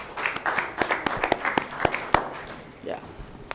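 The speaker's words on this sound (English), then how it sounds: "Let us give a loud applause for his" Audience applause after a presentation at a national conference on institute–industry partnership: scattered hand claps from a modest crowd, steady then thinning out, with a voice speaking over them.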